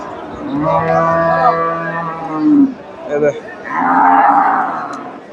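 Dairy cows moo in long, loud drawn-out calls at a cattle market in Bogura near the end of the trading day, two or three bellows close by with brief pauses between them.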